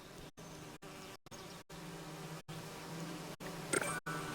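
In the Disneyland Adventures video game, angry bees buzz in a steady, fairly loud drone that cuts out briefly several times, with a short sharp chime near the end.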